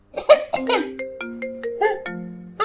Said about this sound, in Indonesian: Itu suara telepon siapa tuh? Mama ya?